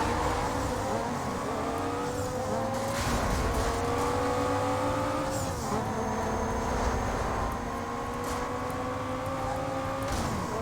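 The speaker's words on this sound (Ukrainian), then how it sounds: "Dodge Viper. Так, педаль до полу." A Dodge Viper in the Need for Speed Most Wanted racing game revs hard and climbs through its gears, the whining engine note rising and dropping again and again at each shift over a steady droning bed.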